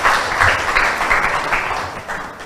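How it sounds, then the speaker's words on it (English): An audience at a debate event applauds a debate team, dense steady clapping filling the room, loud and sustained before slowly easing off. "please give them a big round of applause"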